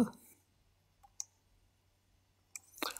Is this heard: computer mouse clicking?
yes